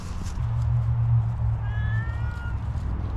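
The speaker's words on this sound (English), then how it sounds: "That's one of the loudest cats I've ever seen in my life." A loud cat meows close by in a drawn-out, wavering call, heard over a steady low engine-like hum in a garage setting with abandoned 1962 Ford Falcon and 1967 Galaxie cars.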